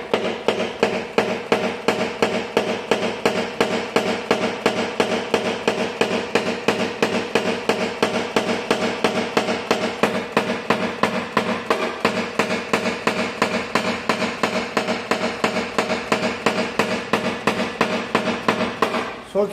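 Paintless dent repair on the side panel of a Volkswagen Tiguan: a metal tool taps the sheet metal in a fast, steady stream of sharp, even knocks for about twenty seconds, close and loud.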